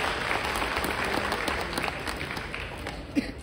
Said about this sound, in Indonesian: Kita beri aplaus untuk tim 37.